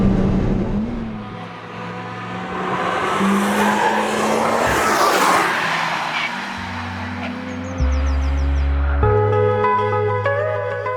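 A BMW M3 race car drives hard on track with a high-revving V8, engine notes climbing and dropping through quick gear changes, while tires squeal and skid loudly in the middle of the pass.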